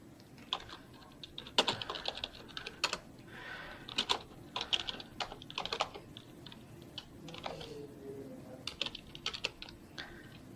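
Someone types on a computer keyboard in close, irregular bursts of sharp key clicks with brief pauses, fairly quiet and with no voices.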